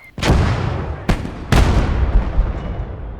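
Heavy artillery fire in the World War II game Gates of Hell, three loud booming blasts close by, the first and last rolling into long rumbling decay, the middle one a sharper crack.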